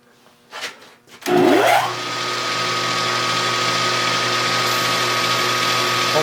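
A milling machine fitted with a 1/2 inch two-flute end mill starts with a rising whine after a few soft knocks, then settles into a loud, steady motor drone.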